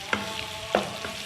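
Onions frying in a pan for anarkali biryani, with a steady low sizzle and a few sharp stirring scrapes spaced through the moment, close and fairly quiet, no voices.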